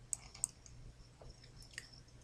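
A computer mouse gives a few faint, sharp clicks, two close together at the start and another a moment later, in an otherwise quiet room.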